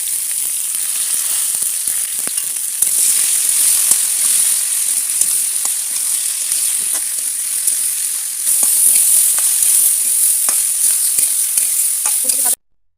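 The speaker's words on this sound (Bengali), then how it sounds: "ফুলকপি ভেজে নেব।" Cauliflower frying in hot oil in a wok makes a loud, continuous sizzle and hiss, with scattered stirring clicks and a surge partway through before it cuts off abruptly.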